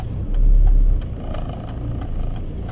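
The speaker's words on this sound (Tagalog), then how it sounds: "meron tayong tricycle sa likod" A tricycle's motor engine passes close behind on a road near a beach shoreline, a brief mid-pitched rumble swelling loudly then fading into steady background engine and wind noise.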